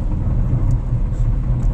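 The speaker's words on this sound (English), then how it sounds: "and Salakia, if you hear noise in the background, I'm in transit right now." Steady car cabin road noise from a vehicle in transit, a continuous low rumble and hiss with no talking.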